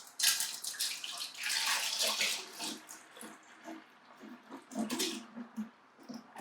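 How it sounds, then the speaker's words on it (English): Homemade ice cream mixture pours from a bowl into a colander set inside a bucket, making a continuous splashing, trickling stream that thins and sputters toward the end, with no talking. "and then pouring our mixture into that colander"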